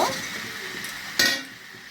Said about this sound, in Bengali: কাঁচা সবজিগুলো দিয়ে দেবো দিয়ে দিলাম দিয়ে নাড়াচাড়া করব